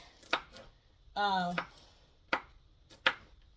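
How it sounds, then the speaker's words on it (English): A knife chops garlic cloves on a board in a few sharp, separate strikes, with a short burst of a voice in between. "And I'm going to chop up this garlic"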